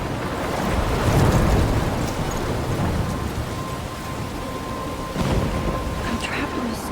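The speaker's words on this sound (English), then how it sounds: "I'm trapped in a storm?" A loud thunderstorm rages in Life is Strange, with heavy rain hissing continuously and rumbling thunder swelling twice, all close and dense.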